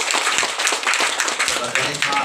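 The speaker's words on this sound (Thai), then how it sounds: "ปรบมือให้บ่าวสาว" Guests at a Thai wedding clapping for the bride and groom, close, uneven handclaps from a modest group, loud and lively, with voices mixed in underneath.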